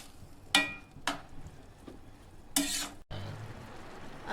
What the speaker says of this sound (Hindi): अब हम इसको भून रहे हैं थोड़ा सा।